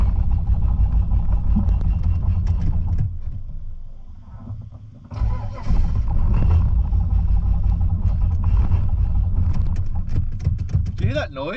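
A VN Calais engine runs roughly on its first start, a loud, uneven low rumble with irregular stumbling misfires that dips briefly mid-clip before surging back, with people talking nearby.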